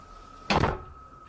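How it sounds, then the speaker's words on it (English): A door shuts once with a short, sharp bang that fades quickly, heard against a quiet room with a faint steady hum. "I just command you to shut the door."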